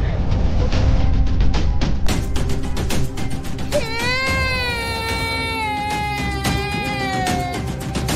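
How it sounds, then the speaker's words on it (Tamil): A young child cries in a loud, sustained wail that rises midway through and continues over busy, clattering background noise in a Tamil TV serial scene. "பாவம், அந்த குழந்தை அழுதுகிட்டே இருக்கு."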